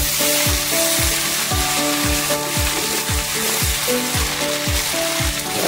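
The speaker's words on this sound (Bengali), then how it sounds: "এবার গরম তেলে পাঁচ ফোড়ন দেবো, জিরে আর আদা বাটাটা দিয়ে দেব, তার উপর এক এক করে সব সবজিগুলো তুলে দেব।" Panch phoron, cumin, ginger paste and vegetables frying in hot oil, a loud continuous close sizzle with repeated rhythmic spatula scrapes against the pan, no talking.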